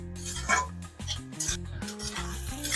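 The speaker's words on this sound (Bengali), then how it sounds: "দুই মিনিট মতন ভালো করে ভেজে নেব গাজর, কিশমিশ আর কাজু বাদাম আর কাঠবাদাম।" Carrots, raisins, cashews and almonds frying in a pan for carrot halwa, with a utensil scraping and clinking against the metal in quick irregular strokes over a soft sizzle.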